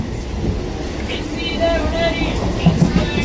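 Station ambience around a crowded local MEMU train bound for Mysore, a steady rumble of rail noise and crowd murmur with faint squeaks and brief knocks near the end, and people talking in the background.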